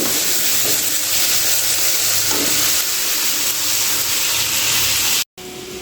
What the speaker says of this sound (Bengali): চলো একটু ভেজে নিই।